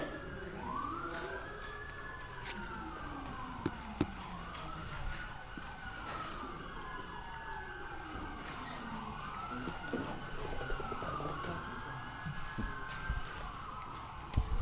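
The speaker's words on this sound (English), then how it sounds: "I'll let the sirens go by." Emergency vehicle sirens pass outside a courtroom, a faint, distant wail sweeping up and down in repeated slow cycles for the whole stretch, with occasional small clicks and room noise.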